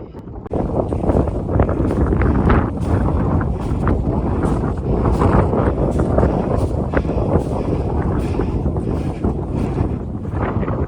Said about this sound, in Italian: Impressionante il sibilo del vento nella parte alta dell'antenna qui.